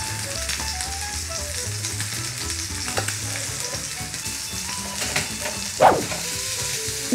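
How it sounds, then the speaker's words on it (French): A halved burger bun toasts in a hot pan, giving a steady, loud sizzle with a few small pops and clatters over a low background hum. "Je le coupe en deux et je vais le faire griller."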